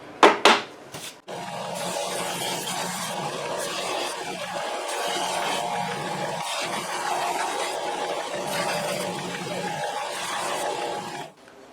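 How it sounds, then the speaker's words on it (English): A Ridgid belt spindle sander smooths the curved edges of wooden mainsheet traveler brackets, making a continuous rough rubbing and grinding sound at close range for about ten seconds after a few brief knocks. "let's head over to my rigid belt spindle sander, and we can clean up these curves a little bit"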